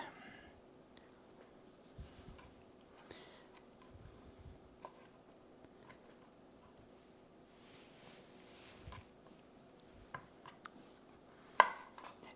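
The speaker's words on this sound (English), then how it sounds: "And this is a coarse chop" A knife coarsely chopping salad vegetables, tomato and onion, on a board: sparse, quiet irregular taps spread across the span, with one sharper knock near the end.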